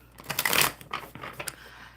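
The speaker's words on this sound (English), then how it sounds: "One more good shuffle." A deck of cards being shuffled during a live coffee-and-cards session, a close riffle burst of rapid papery flutters followed by a few softer card taps and slides.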